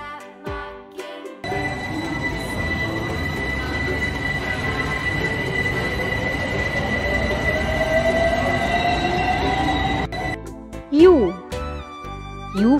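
A train rolls past with a loud, sustained rumble of rail cars and high squealing wheels on the track. The noise runs steadily for about nine seconds, with brief tonal sounds before and after it.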